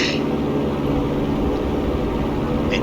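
Piper Cherokee single-engine light aircraft at full throttle during its takeoff roll, a loud, steady droning engine roar heard close up throughout with no pauses.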